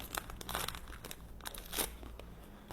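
Soft crinkling and tearing of a small paper drip-coffee bag packet being opened, quiet and close, with a few sharper rips.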